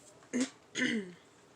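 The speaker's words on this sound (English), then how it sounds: "I'm going to be clearing my throat a lot" Two short, rough throat clearings in quick succession, close and fairly loud against a quiet background.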